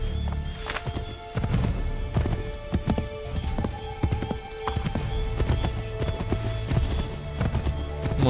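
A horse gallops in Assassin's Creed 3, with steady rhythmic hoofbeats running continuously over game ambience and no talking.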